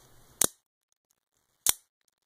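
Two sharp, bright mechanical clicks about a second apart as a Spyderco Manix 2 folding knife blade flips open and locks, each a crisp snap of metal on metal, close up with silence between.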